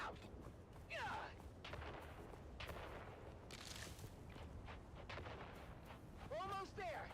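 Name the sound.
grenades exploding in video game Dune Awakening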